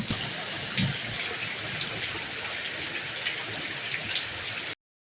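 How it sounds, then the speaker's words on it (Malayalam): Heavy rain pours steadily outside a home in a cramped spot near a kitchen waste-water drain, a dense continuous hiss with scattered drips and splashes throughout, then sudden silence at the end. "ഭയങ്കര മഴയാണ്"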